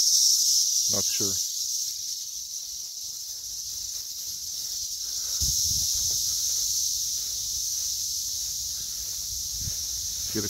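A continuous high drone from male cicadas fills a summer garden, loud and unbroken, with soft footsteps and rustling underneath and a brief low voice nearby.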